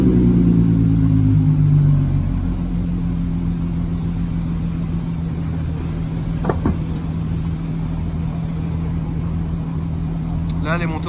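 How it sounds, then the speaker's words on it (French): A Nissan Skyline R32 engine starts and idles with a steady low drone that dominates at first, then settles under people talking nearby. "on va remonter la voiture, tu vas la démarrer"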